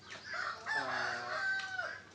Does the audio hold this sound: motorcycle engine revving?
no